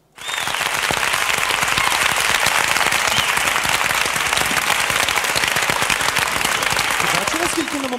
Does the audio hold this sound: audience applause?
yes